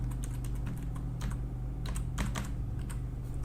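A password goes in on a computer keyboard as a quick, uneven run of close, light key clicks over a low steady hum, with no talking.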